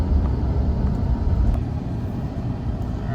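Audi A6 with a suspect transmission pulling under load, a steady low engine rumble and road drone close by with no clear shift break, no voices.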